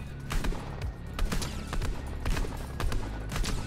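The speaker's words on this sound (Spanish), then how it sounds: "Hay uno ahí y le está disparando uno de aquí." Rapid bursts of gunfire in a Fortnite-style battle game crackle over loud, dense game sound, with sharp repeated shots bunching together throughout.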